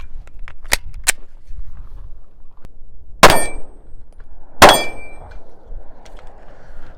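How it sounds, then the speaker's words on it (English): Two sharp gunshots from a Sig Sauer P320 X-Carry pistol firing Hornady hollow point ammunition, each a loud close crack with ringing tail, preceded by faint metallic clicks. "we're going to see how this Hornady hollow point ammunition fares with some of these guns that we're shooting"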